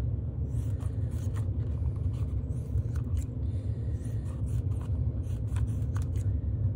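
Scissors cutting out long, angled triangle shapes for texture plates used with a gel plate, giving repeated crisp snips over a low steady rumble, close and fairly quiet.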